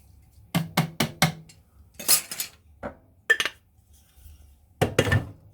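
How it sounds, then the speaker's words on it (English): A metal spoon clinks and scrapes against a bowl while mixing sugar into banana, honey and peanut butter bread batter: several quick taps, a swishing stir, then more sharp clinks, close and clear with no talking. "one uses a spoon to mix it all together to make sure that the sugar is well mixed in and gone"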